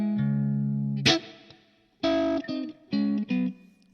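Electric guitar played through a Line 6 Pod HD500 modeling a Fender Deluxe Reverb normal channel rings out in short clean chords and notes, with sustained ringing and brief gaps between phrases.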